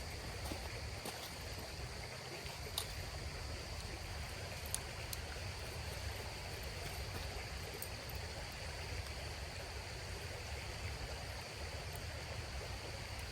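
A creek runs steadily nearby, a continuous broad rush of flowing water that stays even throughout, with faint insect chirps above it and no talking.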